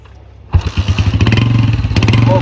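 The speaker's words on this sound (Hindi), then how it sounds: "फाइनली हमने बाइक स्टार्ट की है तो हम जा रहे हैं आगे की तरफ।" A motorcycle engine starts in cold winter weather in Kashmir: after a quiet moment it catches with a loud burst, then settles into a close, rapid, throbbing idle with a clattering beat.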